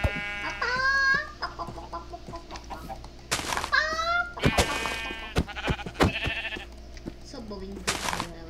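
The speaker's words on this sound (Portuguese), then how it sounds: "eu ouvi uma galinha" Minecraft chicken clucks and bleating calls come in short bursts with electronic chimes and effects, all fairly loud and close.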